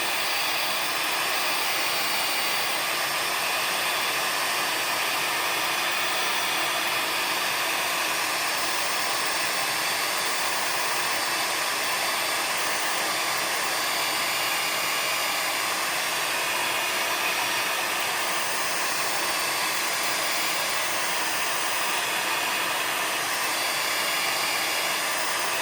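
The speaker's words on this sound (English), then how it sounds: "We'll let it dry, in which we can take a blow dryer" A handheld blow dryer runs steadily on a freshly wiped surface after paper-towel cleanup, a continuous, loud, even airflow whine that holds for the whole stretch with no talk over it.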